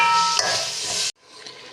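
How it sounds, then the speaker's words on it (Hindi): Potatoes frying with salt and spices in a pan, a steady close sizzle and hiss that cuts off abruptly, followed by a quieter, fainter sizzle. "यहाँ पर मैंने आलू जो है अच्छे से भून लिए हैं।"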